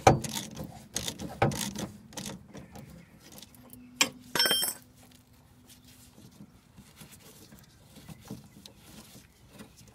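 A socket wrench undoes the stabilizer link nuts on a rear anti-roll bar, heard as close, brisk ratcheting clicks in short bursts followed by quieter metallic handling.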